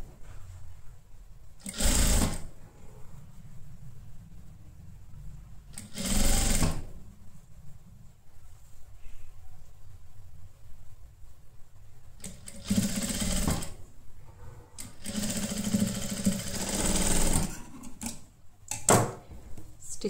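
Sewing machine stitching a halter neck blouse, running in four separate bursts of fast, rhythmic mechanical chatter with quieter pauses between them, close by.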